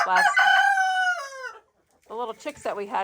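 A rooster crows once, loud and close, a long harmonic call that trails off, followed by a burst of clucking and squawking, outdoors in February.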